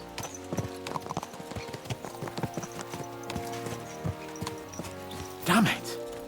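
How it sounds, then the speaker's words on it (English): Horses' hooves clip-clop at a brisk, steady rhythm in Kingdom Come Deliverance 2, close and moderately loud, with a whinny near the end and someone talking over parts of it. "Let's really spur these horses on, eh?"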